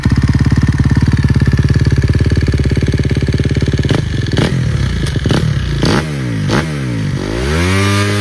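Motorcycle engine running close by, a steady loud idle chugging for several seconds, then clattering scrapes and a few rising revs as it pulls away.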